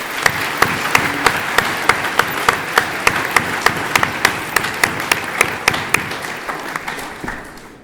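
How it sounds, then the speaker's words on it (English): An audience at a high school senior awards ceremony gives a round of applause for teachers and administrators, a mix of clapping with a few loud, evenly spaced near claps standing out, fading toward the end. "maybe we could just have a round of applause for the teachers and the administrators"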